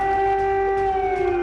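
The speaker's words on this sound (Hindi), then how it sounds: "ये लगभग 14 घंटे के बाद पहला सायरन बजा है अभी" Air raid siren wailing over Kyiv, a loud sustained steady tone with strong harmonics that holds unbroken from start to finish.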